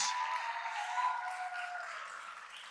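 Audience applause at a Marysville Unified School District trustees' regular meeting honoring award winners, a steady wash of clapping that holds at an even level and tapers only slightly by the end.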